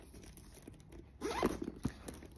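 Someone runs the zipper on a pocket of a fabric-lined faux leather handbag, giving a short close rasp at a quiet level.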